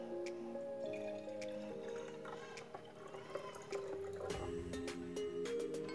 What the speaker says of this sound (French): Vous mettez l'eau dans le baby cook.